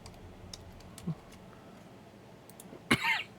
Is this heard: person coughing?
yes